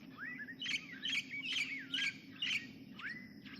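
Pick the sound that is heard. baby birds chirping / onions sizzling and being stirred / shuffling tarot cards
baby birds chirping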